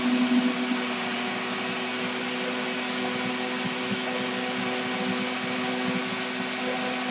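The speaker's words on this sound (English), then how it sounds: "I get the vacuum and everything on." A vacuum on a CNC machine drones loudly and steadily with a constant whine and no breaks, and no voices are heard.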